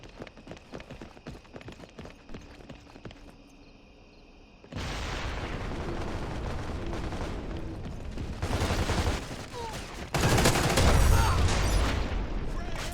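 Gunfire in the shooter video game CrossfireX, starting sparse with scattered shots, then swelling into dense, continuous bursts and heavy blasts that grow louder toward the end.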